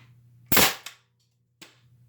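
An 18-gauge nail gun fires into wood with one sharp, loud crack, then a short rattle, and a second fainter shot follows about a second later, with no voices.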